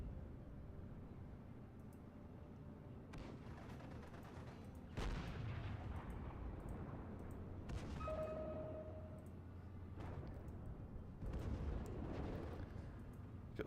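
Artillery shells in a Steel Division: Normandy 1944 battle thump and rumble in several deep, distant-sounding booms, with the barrage rolling on under a low battlefield din.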